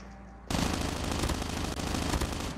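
An MSMC submachine gun in Call of Duty Mobile opens up after half a second of near silence, then keeps firing in a dense, unbroken rapid burst for the rest of the clip.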